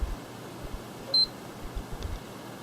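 A PlayStation 3 console gives a short, clear electronic beep while its power button is held down, a single tone standing out over a quiet, faintly hissing room.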